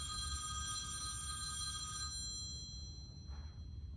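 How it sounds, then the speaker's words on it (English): An office telephone rings with a steady electronic bell tone for about two seconds, then fades out, leaving a quiet room with a faint low hum and a soft brief noise near the end. "No, that's our phone ringing."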